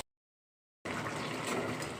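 Water pours into a pan of pea and potato curry as it cooks, a sudden steady rushing splash that starts after a brief silence and continues evenly, close by.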